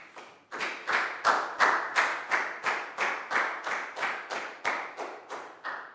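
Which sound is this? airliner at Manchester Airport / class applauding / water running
class applauding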